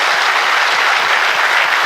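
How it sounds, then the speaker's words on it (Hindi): Loud, dense clapping from a large audience at a Delhi success programme, in honour of the country manager, sustained evenly throughout with no voices on top. "मैं चाहता हूँ एक बार हम सब लोग मिलकर अमरजीत उबी सर के लिए जोरदार तालियां बजाएं"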